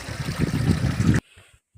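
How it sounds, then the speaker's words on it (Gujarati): Water rushes loudly into a bucket on a farm in a steady, splashing stream that stops abruptly, leaving near silence. "આપણે અહીંથી પાણી ભરીશી ડોલ ભરીને મેકીશી"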